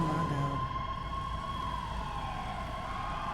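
Loud emergency vehicle sirens wail overhead in a video game roleplay scene, a steady droning rise and fall that stays close and constant throughout without talk.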